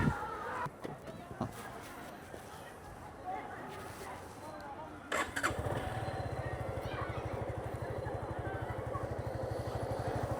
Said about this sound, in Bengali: বাইকটি এখন স্টার্টে আছে, আপনারা ইঞ্জিনের সাউন্ড শুনতে পাচ্ছেন